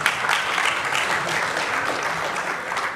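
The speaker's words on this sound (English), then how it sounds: "Oh, applause." Steady applause from an audience, a dense patter of clapping hands that holds at an even level from start to finish.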